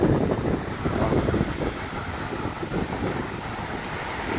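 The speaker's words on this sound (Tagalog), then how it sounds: "Wala lang talagang ulan. Malakas lang talagang hangin." Strong wind during Typhoon Lingling in Korea, a blustery rushing roar buffeting the microphone, loudest at the start and then easing to a steady gusting noise with no rain.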